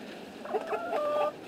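Several backyard chickens cluck in short, quick bursts close by, with a rooster among the flock, the brief calls overlapping over soft background noise.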